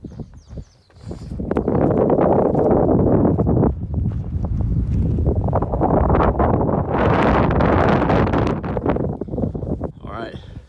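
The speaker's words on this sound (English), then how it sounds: "But it's cold and windy" Strong, gusty wind roars and buffets the microphone on a cold mountain ridge near Conundrum Peak, loud and continuous after a brief quieter start.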